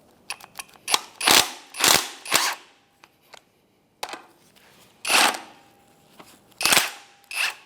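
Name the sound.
impact wrench on strut top nut, 19 mm socket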